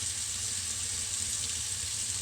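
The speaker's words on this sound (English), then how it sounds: "I'm going to wash my hands" Hands are washed under running tap water, a steady close hiss of flowing water that continues evenly throughout.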